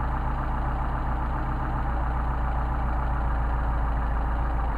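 A small Solex engine idles smoothly and steadily, a close, even, continuous putter with no change in speed throughout.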